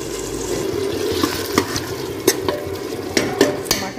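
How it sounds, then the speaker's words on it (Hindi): Minced meat keema frying with tomato and yogurt in a pan, a steady close sizzle broken by repeated scraping and clinking of stirring, with no voices. "टमाटर दही सब अच्छे से भून लेंगे इसको।"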